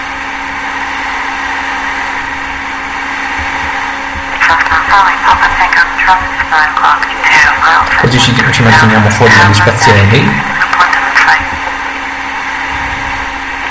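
A Cessna 172 light aircraft flying low over hills drones steadily in the cabin, a continuous engine hum with someone talking over it in the middle stretch.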